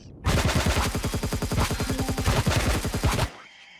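Guns firing at Wraith creatures in Empyrion, a sustained rapid-fire stream of evenly spaced loud shots lasting about three seconds, then cutting off abruptly, with no voices.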